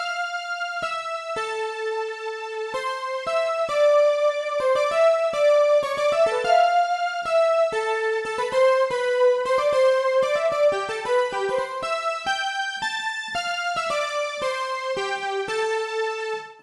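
A synth patch played in Omnisphere, layered to resemble a QS Plus sound, plays a steady run of bright bell-like notes and chords, loud and alone, with no talking.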